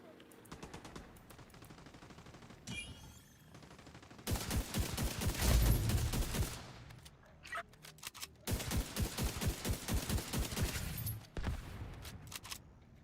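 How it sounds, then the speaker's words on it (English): The Dread Edict weapon fires rapidly in a video game, unleashing two long, loud bursts of dense, crackling shots separated by a brief lull, with quieter ambient game sound between them. "that's the Dread Edict. Still firing at the fire rate of the breadbasket, but no. This is like true spam fire."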